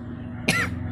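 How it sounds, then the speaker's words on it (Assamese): A single short cough sounds close by, one quick burst over a quiet, steady background. "বহুত কাহ হৈছে"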